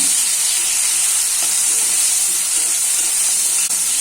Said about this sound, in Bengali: তেলের মধ্যে আলু, টমেটো আর কাঁচা লঙ্কা গোটা দিয়েছি। একটু ভাজা ভাজা করবো